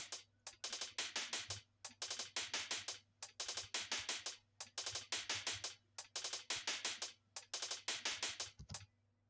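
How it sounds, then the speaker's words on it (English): A fast, busy liquid drum and bass hi-hat pattern made in FL Studio, ticking in crisp repeated bursts over a low steady hum, looping in even bars with no voices. "This hi-hat right here sounds something like this."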